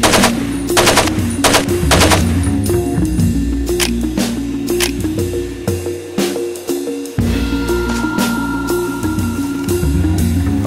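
Machine gun fire in the Far Cry 2 map editor on Xbox 360 rattles out in loud sustained bursts and separate sharp shots, with a short lull midway before the firing resumes.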